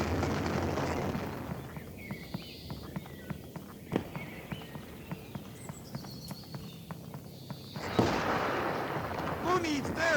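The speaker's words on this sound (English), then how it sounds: "Who needs therapy when you have explosions like this?" Distant video game gunfire and explosions crack and thump in a rapid, irregular series, with heavier booming blasts at the start and end.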